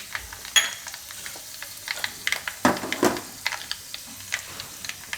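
Asafoetida and red chillies sizzling in a little hot oil while tempering for an amla chutney, a soft steady crackle with sharp spatters and pops close by, no talking.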